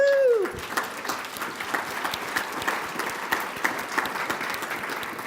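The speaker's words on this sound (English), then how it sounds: "Let's get a clap for you." A chamber of commerce audience claps for the young professionals committee. Dense applause follows a brief opening sound and rolls on steadily, with a few louder claps poking through.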